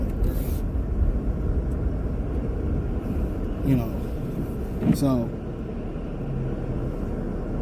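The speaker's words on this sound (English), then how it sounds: "I'm just trying to get away from this truck" A truck rumbles past on the road: dense low engine drone throughout, with two short rising whooshes and brake-like squeals around the middle, under a voice talking.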